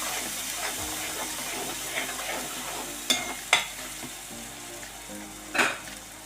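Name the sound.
stirring tomato curry with turmeric in a pan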